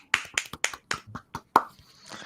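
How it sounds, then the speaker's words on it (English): A single person gives a slow, quiet golf clap of about seven or eight soft, separate hand claps at an uneven rhythm, close and alone, followed by a faint trailing sound. "Golf clap."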